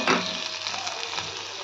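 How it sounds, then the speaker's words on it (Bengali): Small onions and garlic with salt and turmeric fry in mustard oil, giving a brief, even sizzle that starts with a small stir at the beginning. "আর ভাজা ভাজা করে নিচ্ছি"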